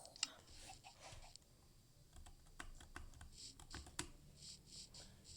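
Soft, irregular clicks of typing on a computer keyboard come through quietly under a faint background hiss, with a few sharper key taps along the way.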